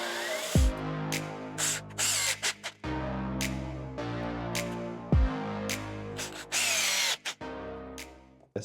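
Bursts of a power drill boring into wood to recess screws flush with plates, several spin-ups and stops with high whine and grinding, close and loud, no talking.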